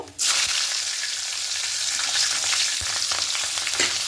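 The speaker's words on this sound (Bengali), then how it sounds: "এবার এখানে কালো জিরে ফোড়ন দেব চার পাঁচটা কাঁচা লঙ্কা চেরা দেব" Nigella seeds and slit green chillies hit hot oil with a sudden loud sizzle that settles into a continuous crackling fry, with occasional light stirring knocks.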